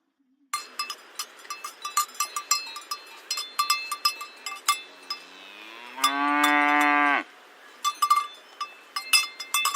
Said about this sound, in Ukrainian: А так звучить корова коли йде на пасовисько.